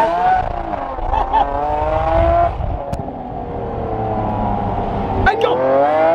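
A Lamborghini Aventador, a Liberty Walk widebody limited edition with a titanium exhaust, revs loudly and aggressively with rising and falling pitch, while excited voices talk over it throughout.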